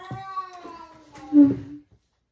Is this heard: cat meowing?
yes